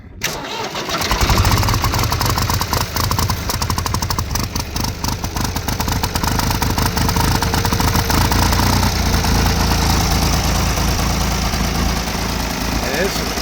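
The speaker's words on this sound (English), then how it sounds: "there's the tractor, which was running a little rough the last time I ran it" A tractor engine cranks and catches, then settles into a loud, steady rough idle, with a voice speaking over it.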